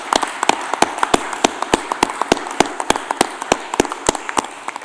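Applause from a council meeting welcoming newly elected councillors: a modest, sparse round of individual handclaps, crisp and fairly close, steady throughout without voices.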